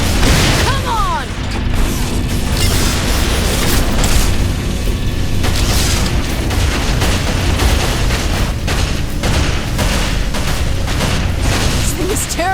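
Mounted guns firing in Saints Row IV, a dense, loud barrage of booming bursts and rapid shots running continuously under game noise and occasional voices.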